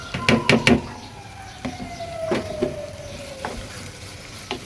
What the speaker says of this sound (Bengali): তেলটা গরম হয়ে গেছে, পেঁয়াজ মরিচ দিয়ে দিচ্ছি